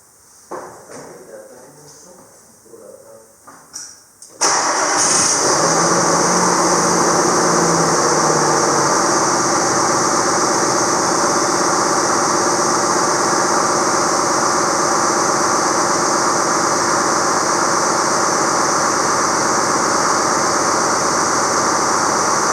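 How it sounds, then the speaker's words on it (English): A tractor engine starts after a few seconds of quieter handling sounds, then settles into a loud, steady idle that runs close and unbroken to the end. "we can always start the tractor up and stick this bad boy in here"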